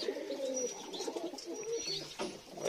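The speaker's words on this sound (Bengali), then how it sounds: "ওই পায়রাটা আবার একে তাড়া করছে, একে তাড়া করছে, শুধু মারপিট করে নিজেদের মধ্যে সবসময়" Fantail pigeons on a rooftop give soft, low, repeated coos, faint and close, with a little light chirping mixed in.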